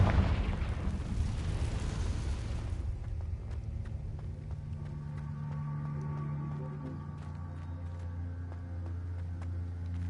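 Blast of the Confringo fire spell in the video game Hogwarts Legacy, a loud burst at the start that fades into a low, rumbling, crackling tail.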